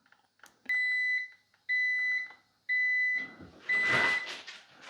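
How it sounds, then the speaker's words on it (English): Three evenly spaced electronic beeps, each held about half a second, from a Cuisinart 12 Cup Coffee Center Grind & Brew Plus coffee maker signalling it has finished, followed by a burst of clattering and rustling. "so it beeps at you like 4 or 5 beeps"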